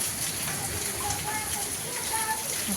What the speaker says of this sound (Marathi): आपला आता मस्त असा पाऊस चालला आहे